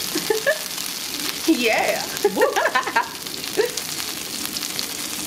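Oil sizzling in a pan while bean and cheese tacos fry on a roadside setup, a steady crackling hiss under bursts of excited talk and a shout.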